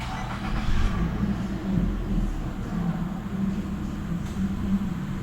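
A Nissan Altima engine runs with a low, steady rumble, its throttle being tested, holding a fairly even drone with mild swells rather than sharp revs.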